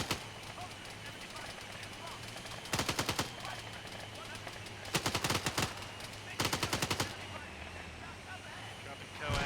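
Coaxial machine gun fire from an armored vehicle in Arma 3, heard as three distinct rapid bursts spaced a couple of seconds apart over a steady engine drone, with loud sharp reports.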